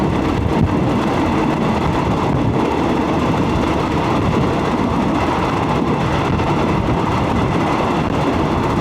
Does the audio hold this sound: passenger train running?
yes